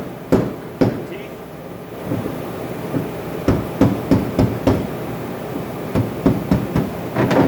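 A hammer strikes a hardwood block held against a tooth on a Contour pedal boat drive. It lands as a series of sharp, close knocks, some spaced and some in quick clusters, over a low background hum.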